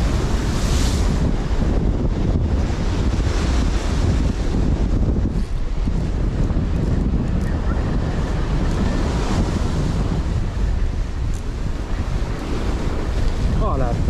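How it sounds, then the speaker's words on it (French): Strong storm wind batters a seaside fishing spot, roaring steadily with gusty buffeting against the microphone and crashing surf mixed in, loud and continuous throughout with no talk. "Et vous entendez ce vent? C'est terrible, c'est terrible."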